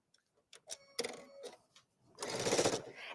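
A domestic sewing machine stitches fabric for a gift quilt in a home sewing room: a few short mechanical clicks and bursts, then a loud stretch of fast, even stitching toward the end, heard alone without talking.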